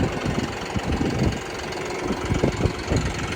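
A 2010 Chevy 3500 LMM Duramax 6.6 diesel truck engine idles close by with a steady, rough low rumble and uneven knocking pulses throughout, and no voices.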